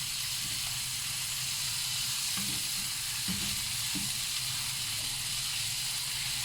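Shrimp frying in a pan during fish cooking give off a steady, loud sizzle and hiss throughout, with a few soft stirring scrapes and knocks underneath.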